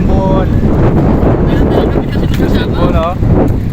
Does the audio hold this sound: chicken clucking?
no